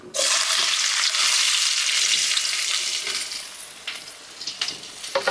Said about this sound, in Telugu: ఇందులో సన్నగా కట్ చేసి పెట్టుకున్న ఆనియన్స్ కూడా ఇందులో వేసుకోవాలి